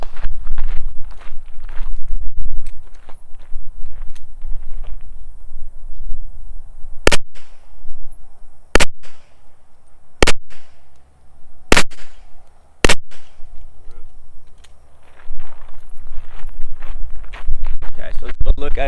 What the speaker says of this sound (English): So here's group shooting first.